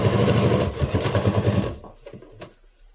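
Sewing machine stitching binding onto a quilt, a steady close rapid hum and needle chatter for over a second that then stops, leaving a few faint handling clicks.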